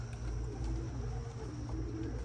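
Racing pigeons cooing at their loft at sunset, a steady low murmur of soft coos from several birds close by, with no talk.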